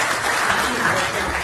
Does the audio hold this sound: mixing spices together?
no